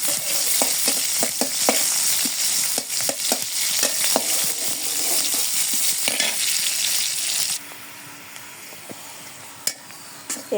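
Onions frying in oil for a tempering in a wok give a loud, dense sizzle broken by rhythmic clacks of stirring. Partway through the sizzle drops to a quieter, softer hiss with a few scattered clinks.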